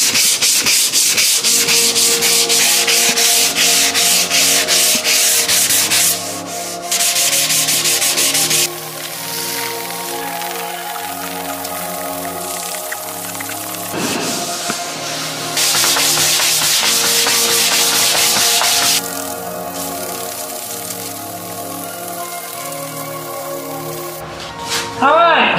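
Honda Civic, eighth generation, having its body paint sanded by hand, with long steady rubbing strokes that stop and start in several passes, close up and alone.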